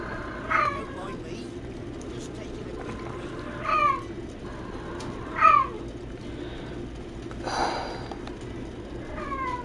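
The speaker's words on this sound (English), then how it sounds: "forgive my cat. She'll stop after a little while." A pet cat meows several times, spaced a couple of seconds apart, fairly close and loud over a steady background hum from a Final Fantasy 16 game session.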